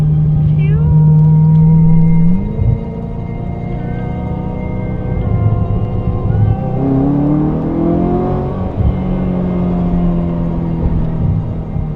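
A Ferrari 355 Spider engine holds a steady, loud drone, then its pitch drops and climbs again as the revs change through several rising and falling sweeps.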